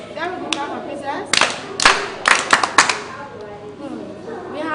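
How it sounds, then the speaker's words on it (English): A classroom of children claps briefly for a classmate, a short burst of sharp, uneven hand claps standing out over a teacher's voice, with speech before and after. "Clap for princess"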